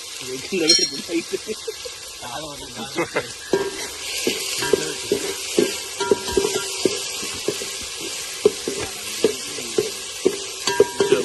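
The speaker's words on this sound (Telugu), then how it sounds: "ఆటోమేటిక్గా ఉల్లిపాయ ఏగుతుందా" Onions frying in pure groundnut oil in a pan while cooking country chicken curry, a steady loud sizzle with repeated clinks and scrapes of a stirring spoon against the vessel throughout.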